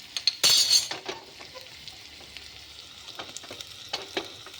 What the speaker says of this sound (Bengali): পেঁয়াজ আমি ভালো করে ভেজে নেব।